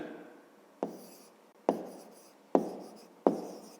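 Pen marks on paper while numbers are written down in a fifth-grade maths lesson: four sharp taps at the start of each stroke, each followed by a short scratching trail, close and fairly quiet.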